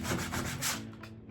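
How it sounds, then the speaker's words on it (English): Sandpaper rubbed by hand over a wooden layered rainbow arch backdrop, steady close scratching strokes in a quick back-and-forth rhythm, alone and fairly loud. "And then I take sandpaper."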